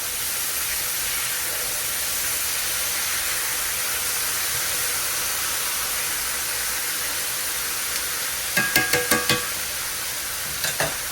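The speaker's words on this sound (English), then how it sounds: "It's brown on one side. What we're gonna do is flip it." Cube steak fries in a pan with a loud, steady sizzle, followed near the end by a quick series of sharp metallic clicks and scrapes as tongs flip it.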